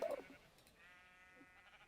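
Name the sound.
sheep bleating in the video game Minecraft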